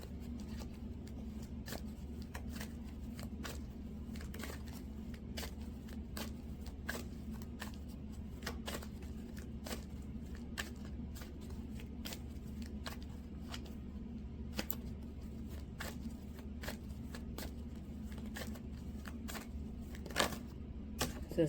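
Tarot cards are shuffled softly and repeatedly, quiet regular riffling flicks over a low steady hum.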